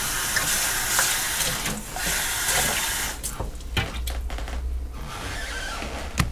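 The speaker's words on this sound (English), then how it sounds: "I'm gonna put half a cup of water in this container just to rinse it up a little bit" Water poured into a plastic container in a kitchen, a continuous close splashing hiss that fades and breaks into uneven trickles toward the end, with no talking.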